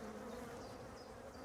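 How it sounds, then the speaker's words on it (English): Honey bees drone steadily inside an opened hive full of hatching old brood, a dense continuous buzz close by with no voices over it. "A lot of bees are hatching out of this."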